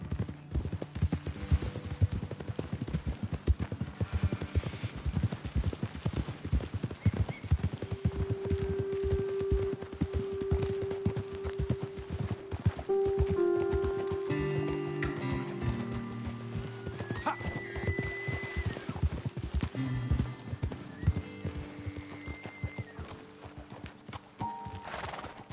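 Steady clip-clop of horse hooves in Red Dead Redemption 2 runs throughout, with an occasional whinny and a sustained musical tone drifting in the background.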